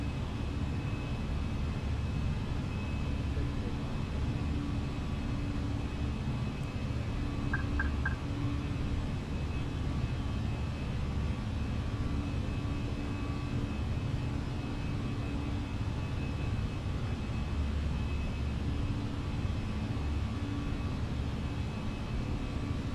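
Delta Air Lines Airbus A321 taking off from runway 12 right at Minneapolis, a steady, heavy roar of jet engine noise heard from inside the cabin throughout, with no voices.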